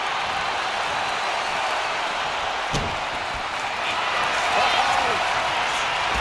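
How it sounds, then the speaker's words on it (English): A large arena crowd in a WWE 2K wrestling game roars steadily as a continuous, loud wash of cheering with a brief slam-like thud partway through, and a commentator's voice sits over the noise. "you hear this capacity crowd following you on that journey"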